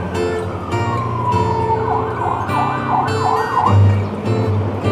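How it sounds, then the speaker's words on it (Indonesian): An ambulance siren wails on a town road in Jeneponto, South Sulawesi. The rising and falling tone is loud and fairly close, with passing traffic noise underneath. "Kalau ada ambulans berikan jalan."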